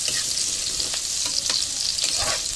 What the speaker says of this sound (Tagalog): magigisa po tayo ng bawang. And of course, yung sibuyas